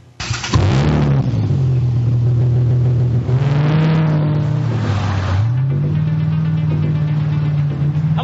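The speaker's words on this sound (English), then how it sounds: "Let's start the car." The Knight Rider K.I.T.T. Mustang car fires up with a quick start, then settles into a loud, close engine note that rises and falls through two strong revs before idling back down.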